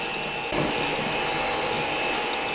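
Electric mixer beating butter and sugar at medium-high speed for key lime white chocolate chip cookie dough, a steady loud motor whir with a constant tone that rises slightly in intensity partway through, close up and with no talking.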